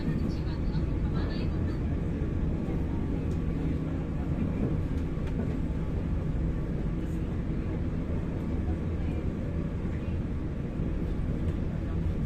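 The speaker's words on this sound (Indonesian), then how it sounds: "ini dia kereta api Cikuray melintas langsung stasiun kereta api Jatinegara" The Cikuray passenger train runs straight through Jatinegara railway station at night, a continuous low rumble and roar holding at an even level for the whole stretch, with a voice faintly present.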